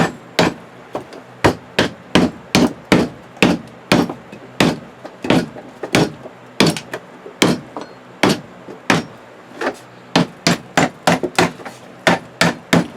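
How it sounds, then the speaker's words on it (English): Sharp, steady hammer blows drive nails into wooden honey bee frames, each strike ringing out as a crisp close crack in a fast, slightly uneven rhythm, around thirty hits with no talking. "You get your hammer."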